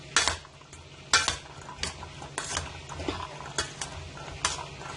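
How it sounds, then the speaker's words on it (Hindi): A spoon stirs vinegar and chili sauce together in a bowl while making chana chaat, giving several sharp scraping clinks against the bowl over a steady low background, close and moderately loud, with no voices. "तो सबसे पहले हम इसको अच्छी तरीके से मिक्स कर लेते हैं।"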